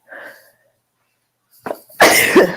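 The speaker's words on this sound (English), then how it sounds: "Achoo." A woman at home lets out one loud sneeze near the end, after a quieter breathy sound and a brief pause.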